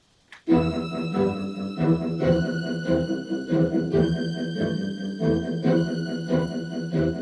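Sustained layered strings with a low cello line, swelling in repeating phrases, full and continuous with no talking.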